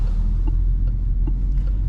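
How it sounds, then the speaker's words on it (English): Soft, evenly spaced ticking of a 2024 Peugeot 2008 facelift's turn indicator, several clicks heard over a loud, low engine hum inside the cabin during a night drive. "I always find the sound of those indicators really relaxing."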